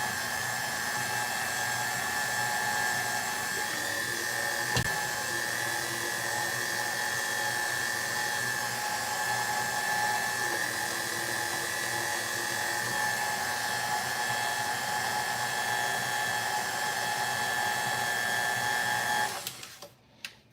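Electric mixer beating sour cream pound cake batter, a steady high motor whine running continuously and fairly loud for most of the stretch before cutting off near the end, with no talk over it.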